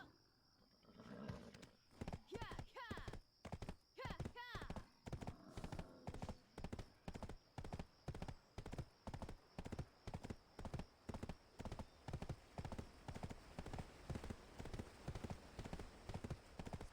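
A horse clip-clops along in the Black Desert video game, its hooves striking in a steady, even rhythm for the whole stretch. The hoofbeats are close, clear and uninterrupted.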